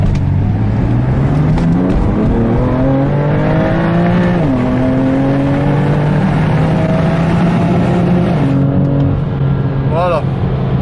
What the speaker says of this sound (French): Et je vais en profiter pour vous faire un petit départ tuning.